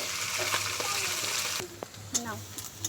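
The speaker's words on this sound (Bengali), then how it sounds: "আমি মাছ ভাজছি ভাজা হয়ে যাক" Fish frying in a pan for a fish curry, a steady close sizzle with a few brighter crackles and spatters, no one talking.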